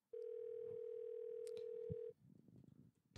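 A steady telephone line tone plays in the adventure game Thimbleweed Park, one clean sustained hum for about two seconds that cuts off abruptly into faint background noise and a short click.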